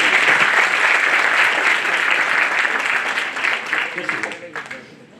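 An audience at a talk on the role of the guru claps in loud, dense applause that holds steady and then thins and fades out over a few seconds.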